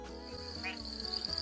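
A person imitates the call of a broad-banded grass frog, producing a steady high-pitched insect-like trill that runs continuously and fairly loud, with a brief squeak partway through and low background murmur beneath.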